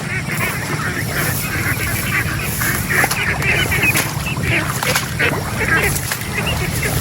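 Domestic ducks that have gone half-wild on a farm keep up a busy honking and quacking chorus, with outdoor background noise and a person talking over them throughout.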